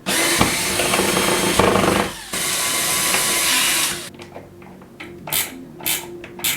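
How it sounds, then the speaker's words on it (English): A power drill whirs in sustained bursts for about four seconds while driving fixings into a bedroom ceiling to hang a pendant light, followed by quieter handling clicks and taps. "So I drilled them in."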